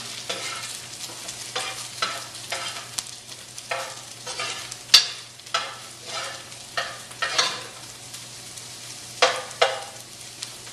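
Small chunks of food for quinoa stuffing fry in a pan. A steady sizzle is broken by repeated scraping stirs at an irregular rhythm, close and moderately loud, with no talking.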